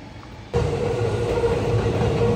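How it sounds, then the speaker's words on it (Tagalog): A Harry Potter themed train heading to Toshima, Tokyo, rumbles loudly and steadily close by, a sudden rise in noise at the start giving way to a continuous rolling roar with a faint tone over it. "Yan yung train papuntang Toshima and Harry Potter train."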